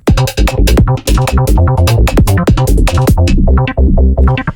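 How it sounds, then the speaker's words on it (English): A fat, squelchy acid bass synth churns loud and dense under a busy electronic groove, continuous and driving with short rhythmic breaks. "this fat acid bass thing that sounds like this"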